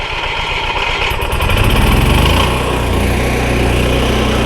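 The small generator engine of a 2018 Forest River Sunseeker 24-foot RV starts up and settles into a steady, loud running drone close by, with no talking.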